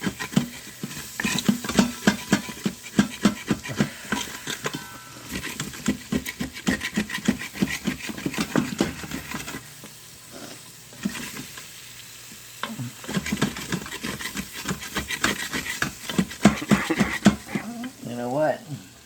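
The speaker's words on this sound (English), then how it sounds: "So I'm going to put the onions in here. And those brown bits are going to come up." Onions stirred in a hot pan with browned steak bits, a steady close sizzle with scraping and stirring strokes throughout, brief quieter moments midway.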